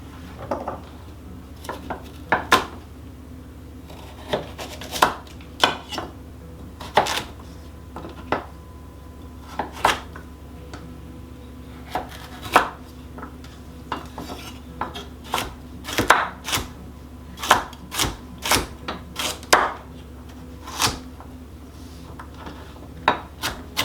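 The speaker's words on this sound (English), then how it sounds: "And we're going to dice these up." Two gigantic carrots diced with a knife on a cutting board, sharp irregular chops and knocks spaced out over a low steady hum.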